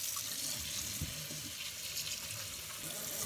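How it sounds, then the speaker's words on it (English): Tap water runs steadily over a glass spoon pipe as it is rinsed under a faucet. The splashing is constant and close, with no talk. "We're gonna go ahead and give it a rinse."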